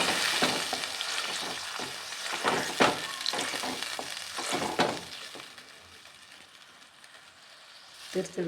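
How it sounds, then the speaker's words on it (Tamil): Ground onion and tomato paste goes into hot oil for a village-style rock fish curry, a bright frying sizzle with bursts of spatter and stirring scrapes that gradually settle to a quieter hiss. "இப்போ நம்ம அரைச்சி வச்சோம் பாருங்கள், வெங்காயமும் தக்காளி, அதை இந்த எண்ணெயிலே ஊற்றிக்கலாம்"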